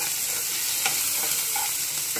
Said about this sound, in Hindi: हमने यहाँ पे एक शिमला मिर्च ली है, इसको भी हम साथ में डाल देते हैं।